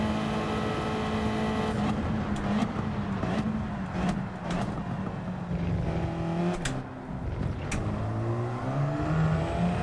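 Turbocharged race car in Gran Turismo accelerating hard, its engine note climbing steadily in pitch, briefly dropping at a gear change and then rising again, loud and close with no talking over it.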